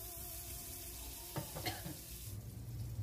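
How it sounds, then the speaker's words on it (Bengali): Butter melts in a frying pan just used for cooking, giving a soft, close sizzle with a couple of brief metallic clinks partway through. "সেম ফ্রাই প্যানে আমি একটু বাটার দিয়ে দিচ্ছি।"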